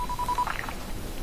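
Short run of electronic telephone keypad tones as a number is dialed in the video game Dying Light 2, about five quick even beeps followed by a brief fuzzy tone over a low background hum, with no talking.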